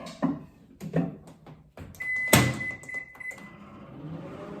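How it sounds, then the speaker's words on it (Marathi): A microwave oven being set for one minute to cook sabudana khichdi: a series of button beeps and clunks, a door thud, then a steady high tone and low hum as it runs. "आता हे मायक्रोवेव्ह मध्ये मी ठेवते आणि एक मिनिटासाठी लावून देते"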